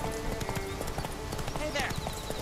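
A horse gallops in The Witcher 3: Wild Hunt, its rapid hoofbeats clopping continuously and close under a dense game soundscape, with voices talking over it.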